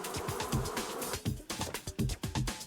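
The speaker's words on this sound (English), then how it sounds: "Now I'm being chased by, like, pink bees." A swarm of pink bees buzzes in a post-apocalyptic video game, giving a faint, choppy series of rapid insect buzzes that pulse and flutter close by.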